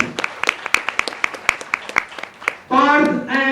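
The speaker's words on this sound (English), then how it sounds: "Big round of applause." Audience at a health quiz in Menezes Braganza Hall, Panaji, claps in a sparse, rhythmic patter of individual hand claps that fades out, followed by a voice speaking.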